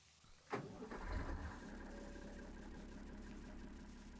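Tractor engine in the Farming Simulator 19 video game cranks sharply to life, then settles into a steady, fairly loud low idle rumble that holds for several seconds with no talking.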